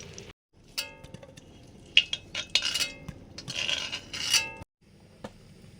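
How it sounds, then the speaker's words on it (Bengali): Fried potatoes for a chicken curry are lifted out of a hot kadai with a metal utensil. Close, uneven scrapes and clinks come in short bursts against a quiet background, with faint sizzling between them. "মাংসের আলু ভাজা হয়ে গেছে তুলে নিচ্ছি"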